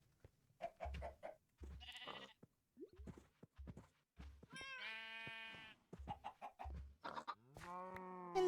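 Minecraft chickens and other farm animals, with repeated short low clucks at a regular beat, interleaved with bleating goat or sheep calls and a drawn-out animal cry, fairly quiet and without talk.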